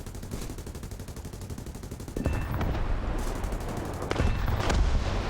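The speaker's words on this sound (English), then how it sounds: "Still got plenty of front gun ammo, so I'm going to put that to some work now." Front guns of a Havoc Mk 1 aircraft firing in War Thunder, rapid bursts of automatic gunfire with the rattle growing louder and denser in the second half, over a constant engine drone.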